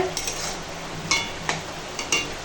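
Notey shak greens cooking in a pan, with a faint steady sizzle broken by a few sharp clinks and scrapes of a utensil against the pan; no one speaks.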